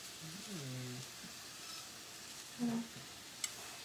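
Chopped potatoes frying in a pan with a steady soft sizzle beneath someone talking, with a brief louder stir or clatter later on.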